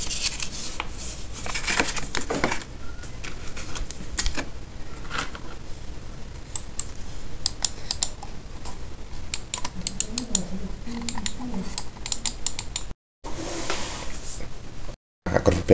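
Typing on a new computer keyboard, a run of quick, uneven clicking keystrokes, close and moderately soft, with brief pauses and a short stretch of voice partway through.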